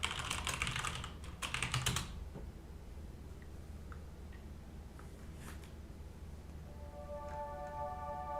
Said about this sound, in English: Do keyboard ASMR.